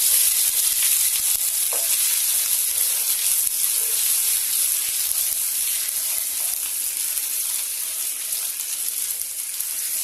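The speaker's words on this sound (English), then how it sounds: "Now we have to fry them well." Pieces of rohu fish fry in hot oil with grated ginger in a kadai, giving a steady, loud sizzling hiss that continues without pause, with occasional faint clinks from the pan.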